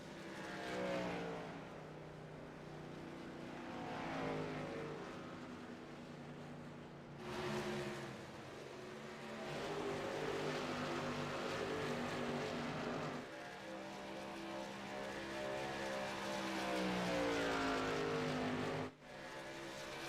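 A race car motoring down pit road during a MaxSpeedTV race broadcast, engine tones rising and falling as it passes, with a sharp cut near the end.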